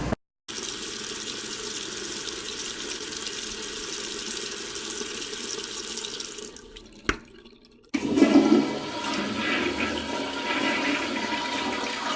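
A toilet flushes with a long, steady rush of water that drains and fades, followed by a brief gurgle and the loud hiss of the tank refilling, close up with no talking.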